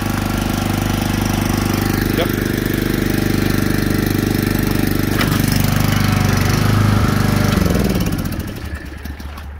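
A small engine-driven pump on a 275 gallon water trailer drafts water, giving a loud, close, steady mechanical drone that keeps up throughout, then dies away near the end.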